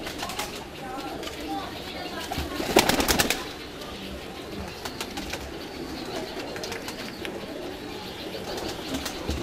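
Pakistani Teddy fancy pigeons flap their wings in a loud burst partway through, with faint cooing and rustling around it and someone talking over the scene.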